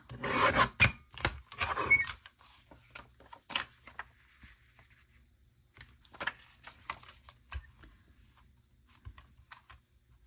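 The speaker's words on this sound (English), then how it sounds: "I'm thinking I'm just going to start trimming it." A craft piece for a neon flip pocket being trimmed, heard as bursts of close scraping and rasping cuts with pauses between, fairly quiet, with no talking.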